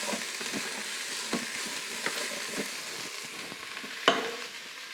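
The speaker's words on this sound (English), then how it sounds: "now I'm going to stir these things around just to get a nice mix" Chopped celery and other vegetables stirred in a pot for a bean and bacon soup, a soft continuous scraping hiss with a few light knocks of the spoon, one sharper clack near the end, close up with no voices.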